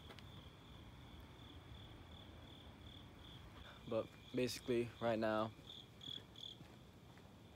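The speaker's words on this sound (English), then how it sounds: "Loud ass cricket." Loud cricket chirping at 4 a.m. on an early-morning walk to the gym, a steady high trill running through the whole clip, with someone talking partway through.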